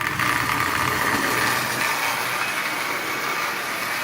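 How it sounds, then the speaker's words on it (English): A Marx prewar toy train motor, built from parts and mounted in a Commodore Vanderbilt shell, runs around the track with a steady, close mechanical whir and rumble that holds even throughout. "So as you see, it's up and running. Pre-war motor made completely from parts."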